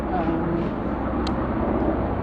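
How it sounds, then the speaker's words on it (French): A helicopter passing overhead outdoors, a steady, moderately loud droning rotor roar holding throughout. "Non, c'est pas un avion, c'est un hélicoptère."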